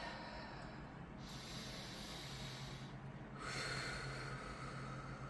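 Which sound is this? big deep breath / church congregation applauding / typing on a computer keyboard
big deep breath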